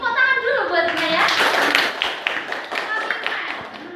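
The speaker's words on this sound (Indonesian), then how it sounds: "Tepuk tangan dulu buatnya ya." A fourth-grade class at a state elementary school claps hands together in a short, scattered burst, with children's and the teacher's voices talking over and around the clapping.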